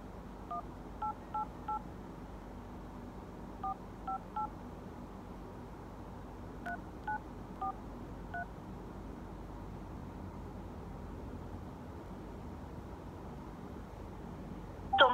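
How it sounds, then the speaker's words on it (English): A phone number is dialed on a touch-tone keypad in several quick bursts of three or so beeps, separated by pauses, over a steady low hiss, with a brief louder noise at the end. "I'm just going to dial this number, see if it's the same number."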